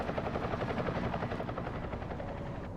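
A helicopter hovers or passes nearby in Deus Ex: Human Revolution, a loud, pulsing rotor thump that holds steady and then eases off slightly toward the end, with no voices.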